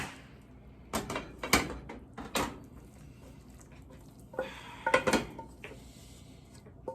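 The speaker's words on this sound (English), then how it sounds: "And I'm going to drop this pan because it's heavier than I thought." A heavy pan is handled on a kitchen stove, giving a few sharp clanks and knocks of metal separated by quiet gaps, with a cluster of clatter near the end.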